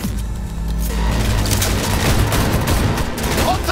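Sustained gunfire crackles over a low engine rumble during a car chase in Cyberpunk 2077 on PS4, a loud, dense stream of shots with booming impacts.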